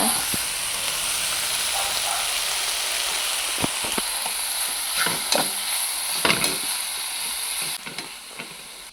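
Ganike greens and onions fry in a pan with a continuous loud sizzle and hiss, broken by several sharp scraping and clinking strokes as the mix is stirred.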